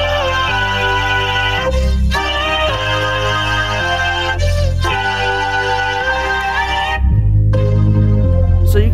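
Vocoded rendition of a song built in FL Studio, with robotic, pitched voice-like tones riding over a steady chord pattern and a deep bass that changes every second or so, loud and continuous.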